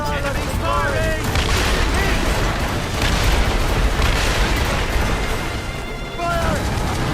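Ship cannons firing in Assassin's Creed Rogue naval combat: dense, loud booming volleys rolling on throughout, mixed with crashing sea and splintering noise while crew voices shout over the din.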